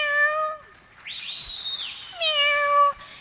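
A mimicry performer at a Kerala school arts festival imitates a female cat meowing, giving several drawn-out, rising and falling meows in close succession, clear and close with no other sound.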